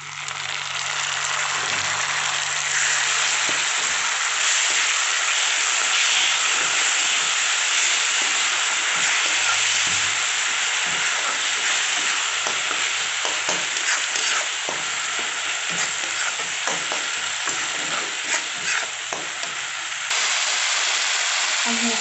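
Tomatoes frying in hot oil with crushed cumin, a loud continuous sizzle and hiss with occasional stirring scrapes, steady throughout with faint talking underneath.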